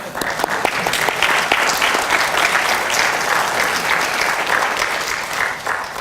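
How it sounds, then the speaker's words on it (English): Dense, steady applause from a large audience fills an MBA graduation ceremony hall at SMU, sustained clapping holding at an even loudness throughout without a break. "this applause precedes what I wanted to say"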